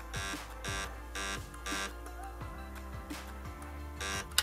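A multi-mode electronic device gives a steady run of short, evenly spaced beeps while a button is held to step through its modes, each tone clear and loud against a faint background hum, with no talking.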